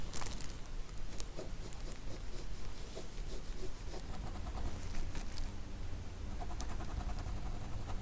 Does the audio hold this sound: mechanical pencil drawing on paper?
yes